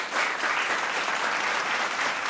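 Audience at a school quiz competition claps steadily for a team, a brief dense burst of applause of moderate volume with no voices over it.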